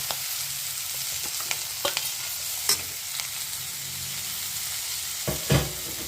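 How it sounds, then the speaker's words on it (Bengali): Tomatoes stirred and frying in a pan for a matar paneer dish, a steady low sizzle with occasional scraping spoon strokes and a louder clatter near the end, no voices. "এর মধ্যে এবার টমেটোটা দিয়ে দিব।"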